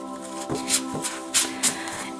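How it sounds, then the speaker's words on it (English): Tarot cards are shuffled by hand in a few quick riffling bursts over a soft background hum, close and fairly quiet. "I'll shuffle one more time here."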